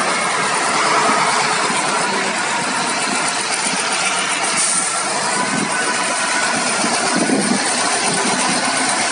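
A KAMAZ 65225 truck engine idles with a steady, unbroken broadband rumble and hiss that stays loud and even throughout, with no voices over it.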